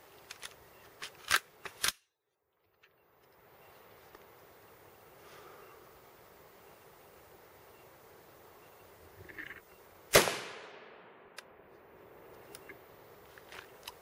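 A 5.56 rifle fires at a spaced armor target of thin and thick steel plates outdoors: a couple of sharp cracks early on, then one loud report with a trailing echo over faint wind noise.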